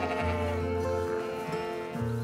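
Sheep on a farm bleat in long, wavering calls that overlap and follow one another without pause, loud and close.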